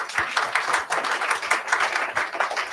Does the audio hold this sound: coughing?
no